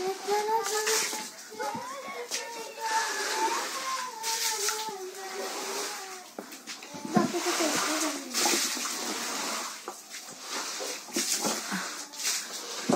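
Rainwater leaks through a damaged roof during heavy rain, a steady splashing and pattering of falling water inside a home, continuous and close, with a dog whimpering and people talking over it.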